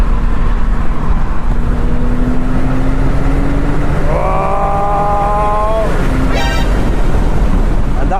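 Brabus-tuned Porsche 911 Turbo S pulling hard on the Autobahn, a constant loud engine drone with heavy wind and road roar, rising tones as it accelerates, then a brief higher whine near the end.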